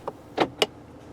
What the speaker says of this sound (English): Just pull this toggle for drive.